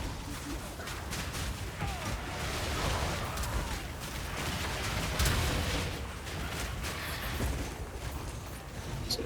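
Grenades thrown by skeletal minions in Path of Exile 2 go off in a steady run of overlapping booms and crackles. The dense barrage stays loud for the whole stretch, with game noise mixed underneath.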